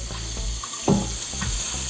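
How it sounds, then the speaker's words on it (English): Tap water runs into a blender jar as it is rinsed out to clear pulp, a close, steady gushing splash with a brief louder slosh partway through. "You want to get that rinsed out before we put our juice back in here."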